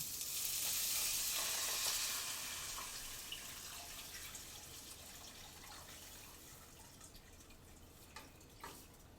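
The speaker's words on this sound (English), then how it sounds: "But we can go ahead and pour our braising liquid in." Braising liquid with aromatics poured into a hot pan of pork for chashu, giving a loud, bright sizzle that fades gradually into softer bubbling and crackling, close up with no talking.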